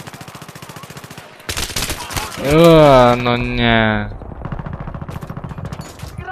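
Rapid bursts of Battlefield 3 gunfire crackle loudly alongside a voice that speaks briefly and lets out a drawn-out, wavering cry.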